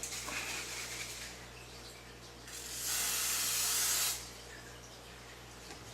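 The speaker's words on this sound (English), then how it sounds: "Grease it." Cooking spray hisses onto an 8-inch square baking pan in one steady burst of about a second, loud and close, with quieter hissy room noise before and after.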